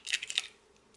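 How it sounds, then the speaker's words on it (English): Eggs cracked open one after another while preparing an omelette: a quick run of sharp, close shell cracks and crunches in the first half second, then near silence. "I'm gonna break these eggs. Just crack them open."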